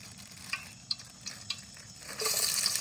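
Lemongrass, onion, garlic and galangal go into hot oil: a few close utensil clinks and taps, then a sudden loud sizzle of frying that carries on to the end, with no talk.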